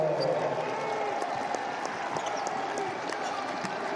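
A basketball crowd of about 1,300 cheers and applauds steadily in an arena during a college game between West Virginia and Iowa State, a dense, sustained roar of clapping with a commentator talking over it.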